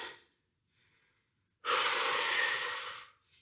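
A strong, forceful exhalation during a core strength exercise, a loud breathy rush lasting about a second and a half, preceded by a faint quieter breath.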